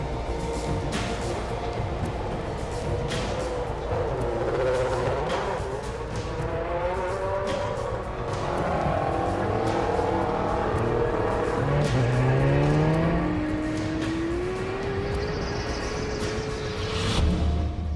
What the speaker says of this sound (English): deliberately spins his rear tyres to make them hotter and stickier, so he has more grip off the line